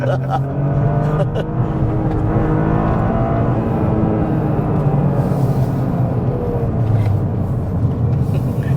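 A Toyota GR Corolla corners hard on a hill climb, its engine droning loud and close with steady rumble and rising revs throughout, while voices talk over it.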